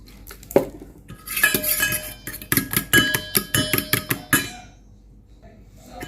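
Eggs whisked with pepper powder and milk in a bowl, giving quick clinking strokes of a utensil against the bowl in a fast rhythmic burst that then fades to quiet.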